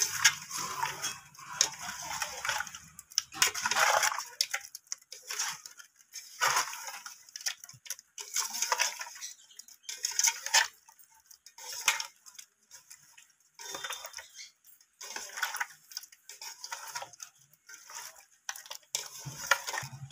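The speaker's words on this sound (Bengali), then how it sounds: "মাছটাকে একটু 2 মিনিটের মতো মাখিয়ে নেব" Bombay duck (loitta) fish pieces squished and mixed by hand with spices, giving soft wet squelches and light ticking clicks that repeat irregularly up close, with no talk.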